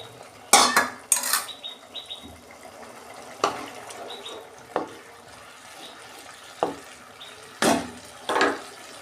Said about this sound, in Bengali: এবার আমি মাছটা দিয়ে আমি অল্প জল দিচ্ছি।